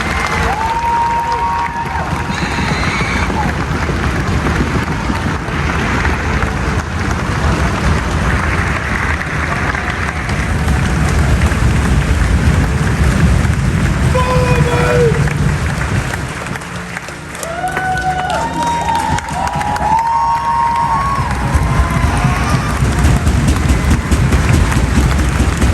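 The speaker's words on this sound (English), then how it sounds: "please join us in a round of applause for the United States Army Infantry Rifle Squad" Crowd applause and cheering at an Army infantry graduation ceremony on a parade field, honoring an infantry rifle squad; sustained loud clapping with scattered shouts and whistles, and voices mixed in throughout.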